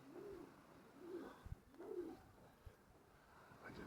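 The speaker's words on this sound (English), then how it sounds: "Hear the pigeons cooing." Pigeons coo on a coastal cliff pathway, soft repeated throaty calls rising and falling in a slow rhythm, near and fairly quiet over faint wind and a few footsteps.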